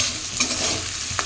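Vegetables fry gently in a pan on a home stove, giving a faint, steady sizzle with a couple of light clinks of utensils and no talking.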